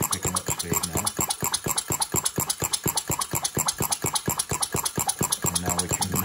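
Small engine fitted with a clean burner, running with a rapid, steady beat whose pulses tighten as it gathers speed; loud and close, with no talk over it.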